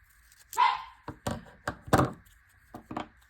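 A dog barks several times in sharp bursts, fairly close, in a quiet indoor room during a paper-crafting session, with no talk over it.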